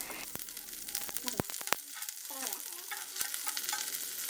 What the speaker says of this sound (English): I add the chopped onions and saute them for a short while until they start to soften